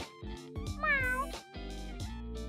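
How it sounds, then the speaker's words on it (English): A tortoiseshell cat meows several times in a row, close and clear, with one drawn-out, wavering meow in the middle. "She is a tortoise-shell cat."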